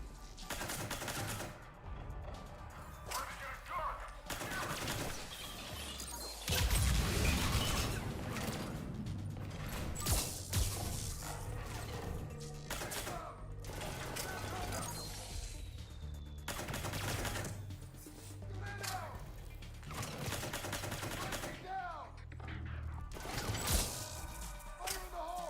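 A deployed turret in a shooter game fires in repeated rapid bursts across a long stretch, loud and close, mixed with mechanical clanks and other game effects between volleys.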